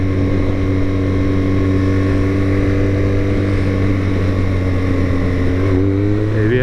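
Close, loud motorcycle engine holds a steady droning idle, then its pitch climbs in a rising rev toward the end.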